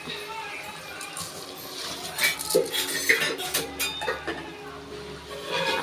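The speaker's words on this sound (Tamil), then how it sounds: "இப்போது வாங்க அரிசி ஆட் பண்ணிக்கலாம்." Dry rice grains tipped into a cooking pot while making mushroom biryani, a soft clattering rush with light metal clinks of pot and utensils, close by, mostly alone with faint background noise.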